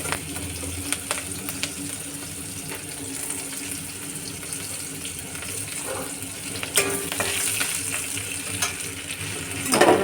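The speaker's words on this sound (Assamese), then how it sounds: "ইয়াতে অলপমান পিঁয়াজ দিছোঁ।" Onions sizzle steadily in hot oil spiced with five-spice, with stirring scrapes and a few sharper crackles toward the end, close and alone without talk.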